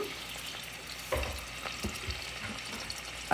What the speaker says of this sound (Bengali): আর হলুদ গুঁড়ো দিয়ে ভেজে নেব